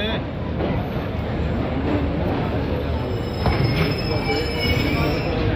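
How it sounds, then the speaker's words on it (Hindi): A passenger train on the way to Hyderabad slows to a stop, its wheels squealing steadily in a high, thin whine over a dense rumble of rolling carriages, with voices talking nearby. "अभी ट्रेन रुक गई है"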